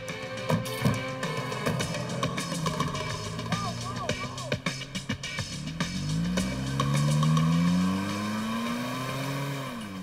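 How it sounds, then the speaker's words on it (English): Getaway car speeding off after a bank robbery in New Jersey, with engine noise building into a loud rising rev as it accelerates away, mixed with clatter and other noise before it. "They escape in her car."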